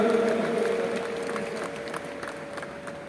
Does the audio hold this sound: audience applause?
yes